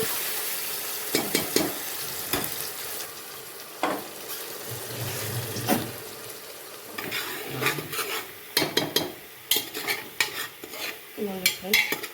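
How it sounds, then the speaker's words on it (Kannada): Ginger, garlic, green chili, coriander and cumin masala fry in a pan for pulao, a soft steady sizzle broken by repeated scraping stirs and sharp utensil clinks against the pan. "ಈ ಥರ ಹಸಿ ಸ್ಮೆಲ್ ಹೋಗೋವರೆಗೂ ಫ್ರೈ ಮಾಡ್ಕೋಬೇಕು ಮಸಾಲಾನ"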